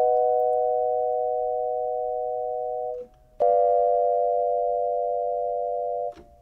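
Major chord played as pure electronic tones: a steady held chord of sine-like notes that breaks off, then returns and holds again before stopping, clean and isolated.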